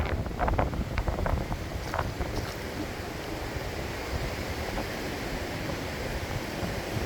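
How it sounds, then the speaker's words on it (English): Strong wind on a seashore at Bout Grand Chemin, Icacos, in South Trinidad buffets the microphone in a constant loud rumbling roar, with faint surf underneath and a few gusty bumps early on. "it's quite windy, folks. I don't know how good you all hearing me, but it's quite windy now."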